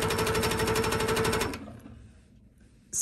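A sewing machine stitching free motion quilting stippling, a fast, even run of needle strokes close and loud for about a second and a half, then stopping and leaving faint quiet.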